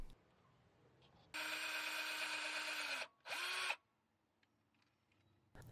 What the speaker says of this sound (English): At this point, I'll just drill some pilot holes.